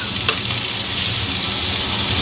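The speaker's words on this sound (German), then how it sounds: "Ich brate jetzt den Rosenkohl an." Brussels sprouts sizzle and fry in a hot pan, giving a steady, dense crackle with no talk over it.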